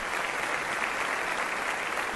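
A steady wash of applause from a church congregation in Bogotá, dense and continuous clapping with no breaks throughout.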